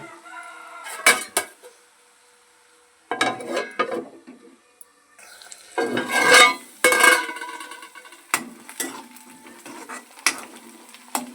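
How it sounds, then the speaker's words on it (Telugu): Onions stirred in a pan with a metal spoon before a lid goes on, producing irregular bursts of scraping and clanking, close and fairly loud, separated by short quiet gaps. "ఈ ఉల్లిపాయ మంచిగా ఉడికేదాకా కలుపుకొని మూత పెట్టేసుకోవాలి."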